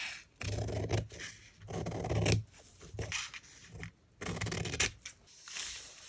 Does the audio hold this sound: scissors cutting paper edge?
yes